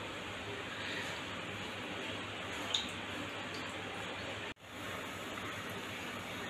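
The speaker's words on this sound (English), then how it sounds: "the water is boiling, the flame is on the lowest possible, the sugar has dissolved" Sugar water simmers on the lowest flame for homemade blue curaçao syrup, a faint, even bubbling hiss that holds steady with one brief dropout near the end.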